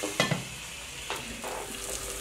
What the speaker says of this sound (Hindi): कीमा अच्छे से भुन गया है